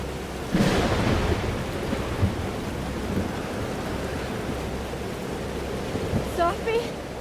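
Rumbling thunderstorm from Life is Strange: Double Exposure, a steady roar of rain-like noise with a louder rolling swell early on, continuing beneath the game's soundtrack and faint tonal sounds near the end.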